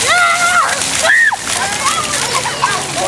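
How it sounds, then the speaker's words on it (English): A child slaps and splashes water, producing a steady run of wet splatters and sloshes close by, with a voice and other voices chattering over the splashing. "She was slapping water all over me."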